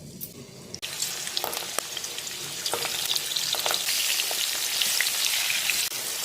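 Potatoes with salt and turmeric sizzle steadily in white oil in a wok, a continuous close crackle with occasional sharp pops and stirring clinks.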